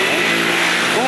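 A Shineray Ray 50 Turbo 50cc motorcycle engine revs loud and close, a steady high buzzing drone held throughout with a slight rise at the end.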